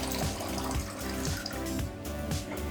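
Tap water runs into a cup in a steady splashing trickle, close and fairly quiet, with small gurgling pulses as the cup fills.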